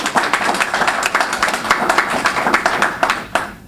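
An audience applauds, steady clapping from many hands at close range that carries on throughout, fairly loud with no voices over it.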